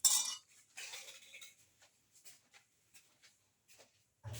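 A spoon clinking against a bowl while dry spices (black pepper powder and salt) are mixed for lamb ribs: a few scraping strokes followed by soft, sparse taps, close and quiet, with no talk.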